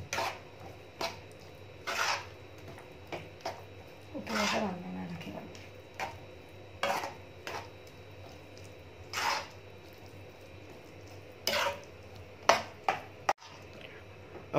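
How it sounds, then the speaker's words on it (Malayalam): Rava idli batter with salt being stirred in a bowl, giving intermittent scraping and tapping strokes in short bursts, moderately close, with stretches of quiet between them. "നമ്മൾ ഇതിൽ ഉപ്പൊക്കെ ചേർത്ത് നന്നായി ഇളക്കി കൊടുത്തിട്ടുണ്ട്."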